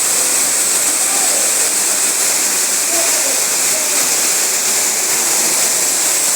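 Water pouring from a waterfall inside a rainforest cave, a loud, constant hiss of falling and splashing water filling the space, steady throughout.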